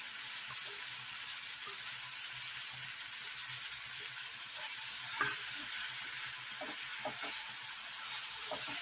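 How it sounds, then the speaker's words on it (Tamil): Mint and coriander leaves sautéing with onion and tomato in a pan for chutney, a steady broad hiss of frying with a few soft stirring taps toward the end. "இதை போட்டு நல்லா அப்படியே ஒரு 5 நிமிஷம் நல்லா வதக்கிடலாம்"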